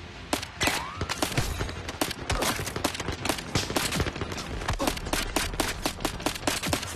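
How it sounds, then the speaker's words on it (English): Rapid, dense gunfire crackles nonstop in the Zero Caliber Reloaded VR shooter, with many overlapping loud shots packed close together in a constant fusillade and no pauses. "Pack that in, mate. You are firing far too fast."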